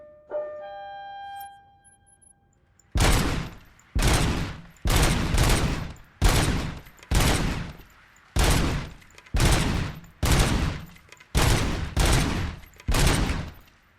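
Rapid bursts of gunfire at a calibration shooting range in the video game Robocop Rogue City, about nine loud, evenly spaced volleys after a brief electronic tone, with no talking.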